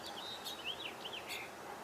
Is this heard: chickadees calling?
yes